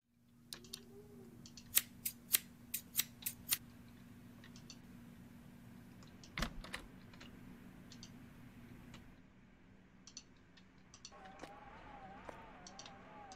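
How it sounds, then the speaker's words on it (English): Scissors in the horror game The Caregiver give a series of sharp metallic snips and clicks, then a louder clack. Faint background hum and a soft electronic tone follow. "Oh, scissors."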